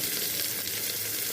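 Onion frying in hot mustard oil with garlic and whole garam masala, giving a steady, close, broadband sizzle that stays even and unbroken through the short moment.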